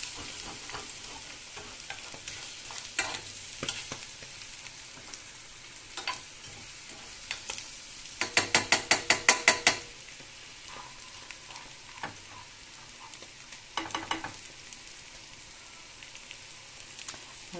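An egg fries in a pan over a low flame, giving a steady soft sizzle throughout, with scattered light clicks and a brief burst of rapid ticking near the middle.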